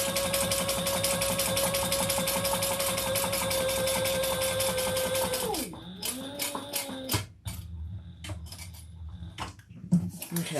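A sewing machine runs a steady, close, fast whir while topstitching for about six seconds, then winds down and stops, followed by scattered clicks and handling taps.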